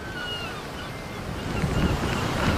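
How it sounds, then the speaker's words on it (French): Storm surge waves crash ashore in a US storm, with roaring surf and gusting wind noise on the microphone building in strength toward the end, a continuous loud wash with no voices. "Ça y est, les vagues arrivent à cause de la marée de tempête."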